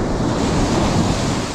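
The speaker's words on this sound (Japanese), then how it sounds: "なんか波もいい感じであるんですけど" Sea waves washing onto a shore at an island fishing spot, a steady loud roar of surf with heavy wind buffeting the microphone and no voices.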